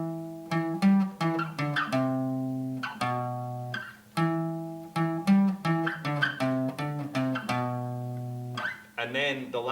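On guitar, a riff plays as a repeated sequence of plucked low notes with sustained ringing tones. It is heard twice in a steady rhythm, close-miked with no talking, and ends in a brief strum.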